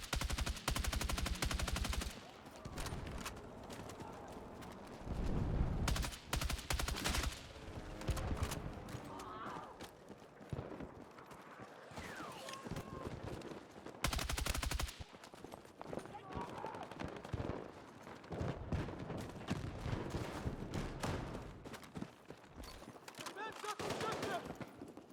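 Gunfire in the Battlefield 6 video game, with a weapon left in semi-auto mode: loud bursts and shots come in clusters across the clip, mixed with game noise, while a person talks over much of it.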